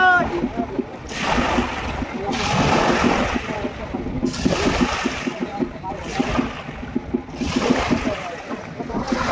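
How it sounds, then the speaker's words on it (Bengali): River waves on the Bhagirathi surge and splash in repeated rushes, each swell rising and falling every couple of seconds, with people talking nearby over the water. "ও ঢেউটা দেখো, জোরসে জোরসে হচ্ছে ঢেউটা দেখো"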